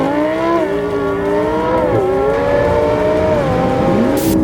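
Lamborghini Huracan and McLaren 720S drag racing from a dig, one engine dominating with a loud, continuous rising howl that climbs through gear changes, close and steady throughout.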